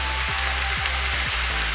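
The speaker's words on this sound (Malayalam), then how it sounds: "അതും കൂടെ ചേർത്തിട്ട് നമുക്കൊന്ന് ഈ തക്കാളിയൊക്കെ ഒന്ന് ഉടയുന്ന വരെ നമുക്കൊന്ന് വഴറ്റിയെടുക്കാം." Chopped ripe tomatoes fry with mutton masala in a pan for Kerala mutton varattiyath, giving a soft steady sizzle with a few light stirring scrapes.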